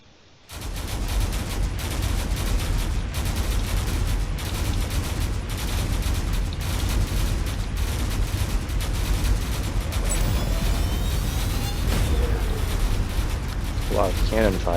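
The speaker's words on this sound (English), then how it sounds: "A lot of cannon fire here." Battleships in a video game unleash a dense barrage of cannon fire, loud overlapping booms and blasts rolling continuously without pause.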